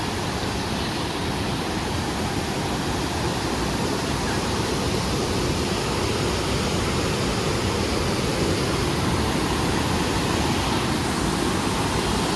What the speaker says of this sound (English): That's the river right there. Yeah. Probably Hear it.